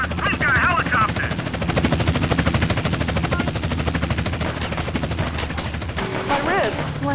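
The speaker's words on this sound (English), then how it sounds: "I've got a helicopter." A loud, steady helicopter rotor thrum in the video game GTA San Andreas runs throughout, mixed with bursts of rapid gunfire and voices talking over the din.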